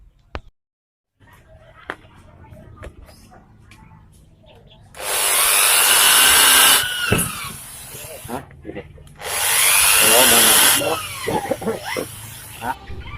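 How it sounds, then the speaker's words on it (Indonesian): A power drill whines loudly in two long bursts, a few seconds each, drilling the sides of a metal heatsink, with quieter handling noises and brief taps between them. "Jadi di sini akan saya bor bagian kiri dan kanan di bagian heatsink, di bagian sisinya."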